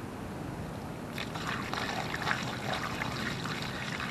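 Dirty water extracted from the seats and carpets of a Dodge Journey being poured out, a steady close trickle and splash running for several seconds without talk.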